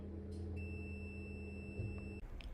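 A continuity tester checking boiler cables emits a steady high-pitched electronic tone that holds for about two seconds and then cuts off cleanly, faint against a low background hum.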